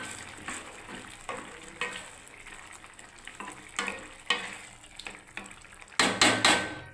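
Eight to ten paneer pieces fry in a pan for a ridge gourd curry, giving a steady close sizzle with repeated stirring clatters and a louder burst of sizzling near the end.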